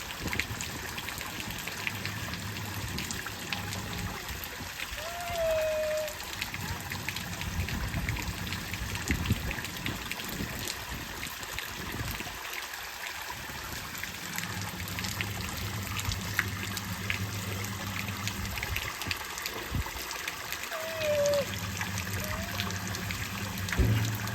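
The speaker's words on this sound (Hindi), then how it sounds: "आपका भी धो दूँ आपका मुँह धो दूँ" Water poured and splashing while someone's face is washed, a steady trickle and dribble with brief louder pours, heard close over faint background noise with no clear talk.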